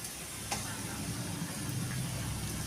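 Cumin seeds sizzling in hot oil in a pan, a steady close fizzing crackle that runs the whole time with faint spatters, no voices over it.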